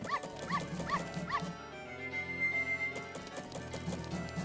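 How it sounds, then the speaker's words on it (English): A dog in the video game Majora's Mask barks and yips in a quick series of short, bright calls, then goes quiet before more barking returns, loud over game music and background sound. "the dog likes to lick Zora Link because he tastes like fish"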